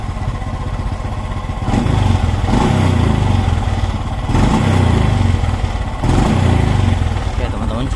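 A Honda Supra X 125 carbureted motorcycle engine runs up close and loud, rising and falling in three revving surges over a rough idle, with someone speaking in the background.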